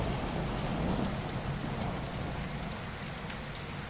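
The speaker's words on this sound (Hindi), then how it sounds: "बारिश हो चुकी है तेज़, इंतहाई तेज़।" Heavy rain roars steadily on surfaces close by, a dense continuous wash; no distinct thunder stands out.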